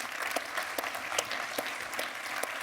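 An audience claps to welcome a speaker at a Grande Vendée gathering, a dense burst of applause with sharp individual claps popping through, steady and fairly close for a few seconds.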